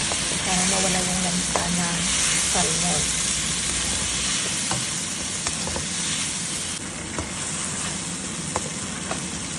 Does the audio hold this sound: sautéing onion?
yes